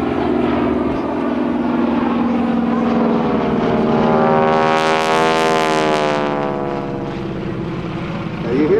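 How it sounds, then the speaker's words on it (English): A Beech-18 and a T-6 Texan pass by at an airshow, their radial engines rumbling loudly as they close in, peak with a sweeping roar and fade away, while a voice speaks underneath. "Now you hear that rumbling sound of those radial engines as they come by"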